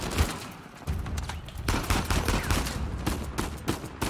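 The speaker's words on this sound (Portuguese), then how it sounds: "Bom tiro, Nathan." Gunfire in the video game Uncharted 4 rattles in dense, rapid bursts of shots, loud and close, with little pause between volleys and no talk over it.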